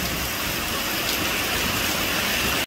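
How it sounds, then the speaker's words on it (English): Heavy rain pours outside in very bad weather, a dense, steady hiss that fills the whole stretch at an even, fairly loud level, with no talking. "Very, very bad weather. Please stop raining."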